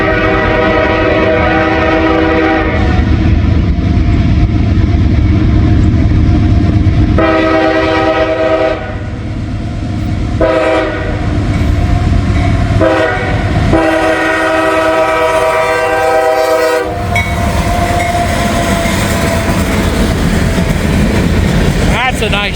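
Rebuilt, freshly shined locomotive L411, a local freight working industries along US 50 in Walton, rolls past up close with loud sustained horn blasts in several long bursts over a steady rumbling engine and wheel noise.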